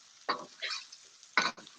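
Sliced garlic stirred into onions sautéing in a pan over low heat, two short bursts of scraping and sizzling close up with a soft fizz in between.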